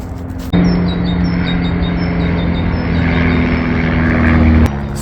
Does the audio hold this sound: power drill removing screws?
no